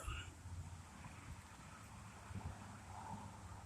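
Gusty outdoor wind buffets the microphone in a steady low rumble, broadband and continuous with slight surges, recorded outside where fired Glock pistol cases are being examined; faint voice traces may sit underneath.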